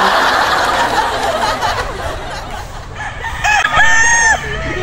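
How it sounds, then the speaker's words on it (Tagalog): A rooster on a farm crows near and loud, a harmonic call rising and holding near the end, over steady farmyard background noise and soft clucking. "Napaka-gentleman ng manok na ito."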